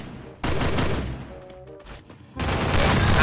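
Heavy shotgun fire in the mobile battle-royale game Free Fire: loud, close bursts of blasts in two dense stretches, separated by a quieter gap with a brief tonal game sound.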